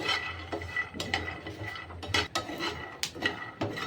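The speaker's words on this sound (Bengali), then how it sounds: "আমি একটু নেড়ে চেড়ে বাদামগুলো ভেজে নেব" Dry peanuts scraped and stirred in a hot pan for laddoos, a steady run of rattling, clattering scrapes with sharper bursts every half second or so, close and fairly loud, with no voices.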